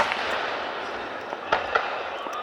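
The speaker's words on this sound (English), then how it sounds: "Fireworks are pretty though." Fireworks go off at night, heard as two or three faint, distant pops over a steady wash of outdoor background noise.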